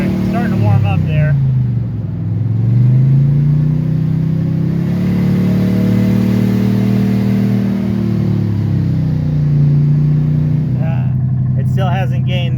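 A '71 Plymouth Satellite wagon engine revs hard at very high RPM, the pitch rising and falling in long sustained sweeps, loud and close, with people talking over it.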